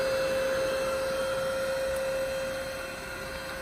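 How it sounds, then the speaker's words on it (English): An electric pump inflating an Advanced Elements Airvolution inflatable kayak runs at a constant, close, droning hum with a steady fan-like whir that stays even and uninterrupted, with no voices. "So that pump is going to run on a fan for a little bit"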